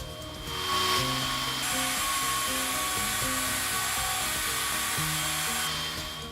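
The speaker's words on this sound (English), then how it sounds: "with the new methods of using a stone chainsaw, it's much quieter, it's much cleaner" A stone chainsaw cuts into blue john rock underground, giving a steady, high, whining motor drone with a gritty grinding texture that holds at an even loudness for several seconds.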